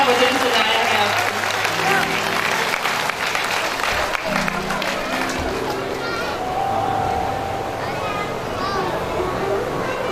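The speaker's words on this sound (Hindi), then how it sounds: "एक बार जोरदार ताली मेरे भैया के लिए।" Audience applause at a Bhagwat katha religious gathering in India, a dense, steady clapping from a large crowd mixed with chatter and children's voices, continuing loudly for several seconds.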